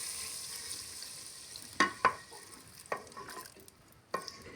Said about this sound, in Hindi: तो देखो मैंने तड़का लगा लिया है।